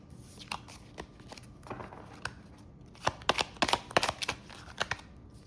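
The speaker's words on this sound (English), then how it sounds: "So let's go ahead and pull some tarot cards." Tarot cards being shuffled and pulled: soft riffling and papery slides, followed by a quick cluster of sharp card snaps and flicks, close and fairly quiet.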